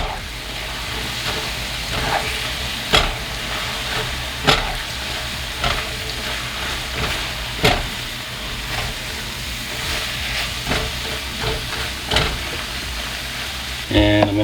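Fresh thyme being stirred through mushrooms in a pot, a steady soft sizzle with several sharp spoon knocks against the pot spaced a few seconds apart.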